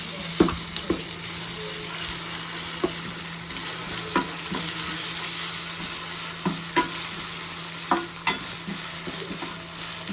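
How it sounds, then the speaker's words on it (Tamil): Ground onion and garlic paste sizzles steadily in a hot pan for a Tamil stingray fish curry, with scattered scrapes and taps of a stirring spoon cutting through the constant frying hiss. "வெங்காயமும் பூண்டு எல்லாம் அரைச்சி வச்சு பார்த்தீங்கன்னா அதை அதில் சேர்த்து நல்லா வதக்கிக்கணும்"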